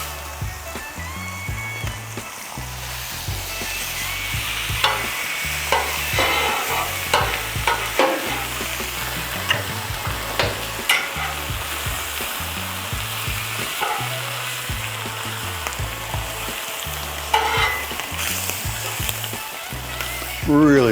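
Ham slices frying in butter on a Blackstone griddle, a steady loud sizzle with scraping spatula clatter throughout.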